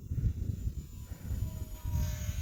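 An Eachine T-28 trainer-style RC warbird airplane flies at about half throttle, its electric motor giving a steady buzzing drone with gentle rises and falls as it passes at a moderate distance outdoors.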